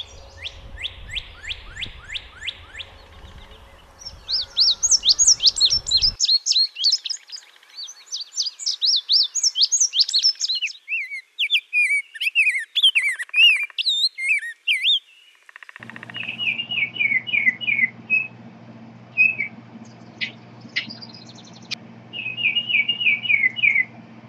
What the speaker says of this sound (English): the quiet of winter is replaced by the songs of a multitude of birds